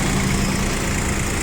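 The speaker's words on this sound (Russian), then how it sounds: "В принципе, без вопросов двигатель работает наш. Ровненько, четко, хорошо реагирует на нажатие педали газа." A rear-wheel-drive mini tractor engine idles smoothly and evenly up close, a steady, loud, continuous rumble with no talk.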